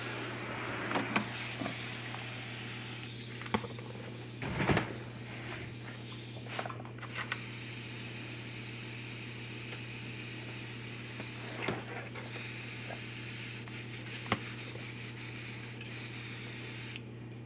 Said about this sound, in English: And I'm gonna clean out my airbrush.